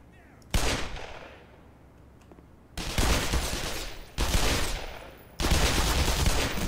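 Gunfire in the first-person shooter Black Mesa: a single loud shot followed by a fading tail, then three bursts of heavy automatic fire in quick succession, each sharp onset and dense roar.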